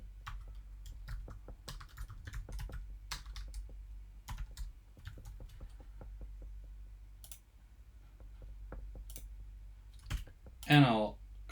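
Clicks of keys being typed on a computer keyboard while entering an email address into a login form, quiet and irregular against a low background hum, with one brief louder burst near the end.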